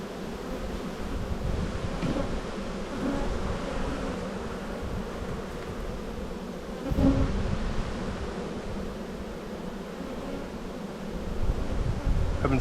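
Honey bees in an open spring hive, festooning as they start building comb, make a dense, continuous buzzing hum close by, rising slightly in loudness near the end, with no voices.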